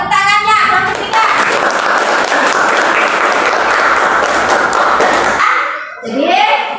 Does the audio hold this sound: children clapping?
yes